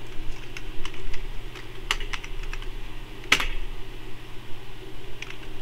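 Typing code on a computer keyboard, a string of separate clicky keystrokes in irregular bursts with one louder key strike partway through, heard close over a steady low fan-like hum, with no voices.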